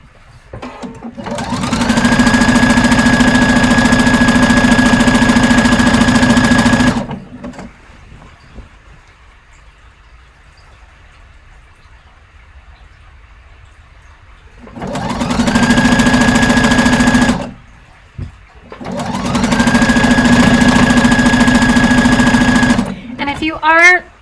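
A sewing machine stitches an Orla dress at the neckline above the zipper, running in three loud steady bursts with a quiet pause between the first two.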